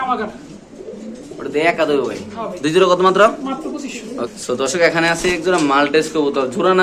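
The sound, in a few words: pigeons cooing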